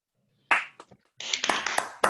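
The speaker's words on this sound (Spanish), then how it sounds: "estaría buenísimo que le demos un aplauso a todos" Scattered applause from an online audience at a doctoral thesis defence, a few isolated claps at first, then a denser burst of clapping through microphones for under a second.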